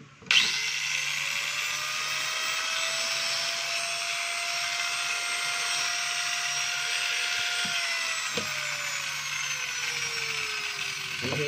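A Makita M0910 angle grinder, 540 W, runs after a switch repair, giving a steady, fairly soft whine for about eleven seconds at close range, with a faint pitch dip near the end and a couple of light clicks.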